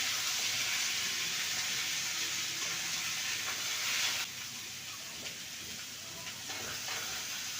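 Vegetables with taro sizzle and hiss steadily in a hot pan as they are stirred, a dense, bright frying noise that drops slightly in level partway through and carries on more softly.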